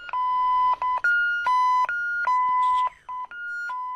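Handheld scanners in an Amazon warehouse beep repeatedly in a rapid, uneven series of clear electronic tones of varying pitch and length, close and prominent with no talk.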